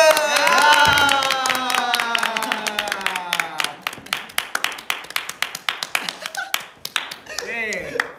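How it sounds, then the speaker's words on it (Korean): During a live stream, people clap in a quick, even rhythm of sharp, distinct hand claps that repeat close together. Voices can be heard at the start before the clapping takes over. "박수!"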